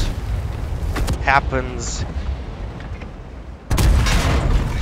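Tank cannon shots are exchanged in World of Tanks, heavy booming blasts over a rumbling battle background, with a particularly loud, sustained impact late in the clip; someone talks briefly over it.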